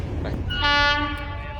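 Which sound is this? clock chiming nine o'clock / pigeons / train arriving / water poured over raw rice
train arriving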